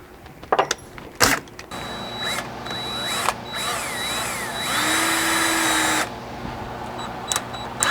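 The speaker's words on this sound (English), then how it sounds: "I'm going to drill just past the end of this" A power drill drills a hole in scrap wood for an address sign post, whirring in several bursts, revving up and down between sharp clicks and knocks, with one long steady run near the end.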